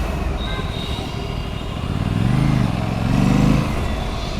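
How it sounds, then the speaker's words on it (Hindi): An Aprilia RS 457 motorcycle with its 457cc engine is ridden and braked, the engine note steady and close, then rising and falling in two swells as speed changes. "ट्राई करते हैं एक बार बाइक की ब्रेक मार के"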